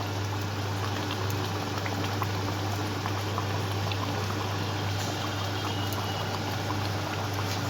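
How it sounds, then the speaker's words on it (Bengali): Doi katla, a yogurt-based fish curry with katla, boiling in a pan, giving a steady, continuous bubbling hiss at close range with no voices. "মাছ দিয়ে জিনিসটা ভালো করে ফুটে পুরোপুরি রেডি হয়ে এসছে"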